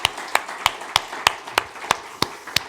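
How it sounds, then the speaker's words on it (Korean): Clapping during a Korean Christmas church service, heard as nine sharp, evenly spaced claps at a steady rhythm of about three per second, crisp and fairly close with quiet room tone between them. "박수 올리겠습니다"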